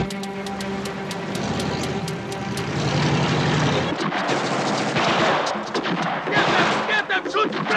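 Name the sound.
gunfire in a shootout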